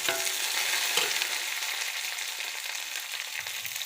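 Cumin seeds sizzling in hot oil, a close, steady, loud crackling hiss that stays dense and even throughout, with no voices.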